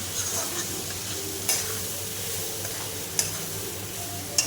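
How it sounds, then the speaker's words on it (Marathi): Leftover cooked rice being stir-fried into fried rice in a pan gives a steady close sizzle, with a few sharp scrapes or taps of the spatula against the pan. "आणि दोन मिनिट आपल्याला हे चांगलं परतून घ्यायचं आहे"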